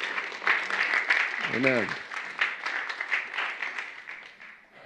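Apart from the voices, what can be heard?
congregation applause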